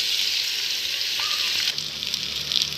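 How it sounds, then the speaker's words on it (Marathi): Whole spices, onion and garlic fry in hot oil for an egg curry, making a loud, dense, close-up hiss that runs unbroken, shifting slightly as the ingredients are moved around. "खडे मसाले आधी परतायचे, त्यानंतर कांदा आणि लसूण टाकून छान फ्राय करून घ्यायचे।"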